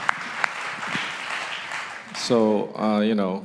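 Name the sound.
congregation applauding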